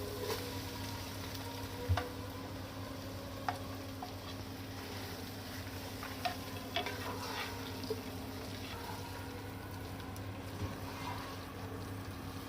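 Okra being fried in a pan of well-roasted spiced masala with salt, a steady low sizzle throughout with occasional soft clinks and scraping as it is stirred, no voices.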